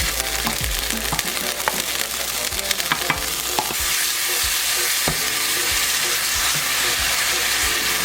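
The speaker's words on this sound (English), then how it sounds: "A little bit of oil to your pan." Oil sizzling loudly in a frying pan, a continuous hiss and crackle close up with occasional sharper pops, no voices.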